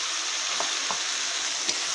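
Ginger, cumin and green chili paste frying in hot oil while being stirred, a loud dense sizzle with faint scraping strokes of a spatula, close up and without voices.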